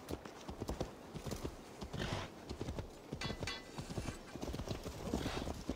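Horses gallop in Assassin's Creed Valhalla with a dense, continuous clatter of hooves, close and busy, broken by occasional whinnies over game ambience.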